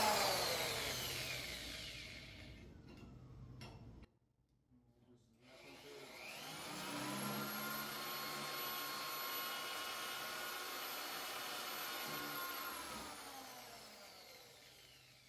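A power drill with a cobalt bit bores into the rusted metal of a truck bed, a steady high whine that stops briefly, then spins back up and holds a sustained grinding tone at moderate volume.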